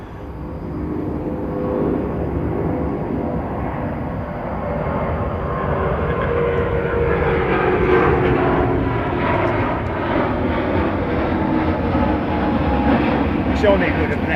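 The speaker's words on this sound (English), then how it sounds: "It's a plane." A plane flying over at London Heathrow Airport gives a loud, steady engine roar that swells gradually with a rising whine, filling the whole stretch with no pause.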